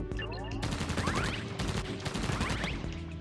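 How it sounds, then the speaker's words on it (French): Rapid sustained minigun fire from a newly acquired weapon in a cartoon-style video game, a dense continuous rattle running throughout with bright game effect sounds layered on top. "Tu vois, une espèce de minigun."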